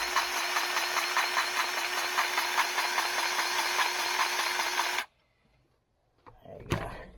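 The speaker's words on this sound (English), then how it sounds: "Put my old grease gun on there with my lock and lube" A power tool drones steadily and loudly for about five seconds while greasing a tractor fitting, then cuts out abruptly, followed by near silence and a few clanks and rustles as it is handled.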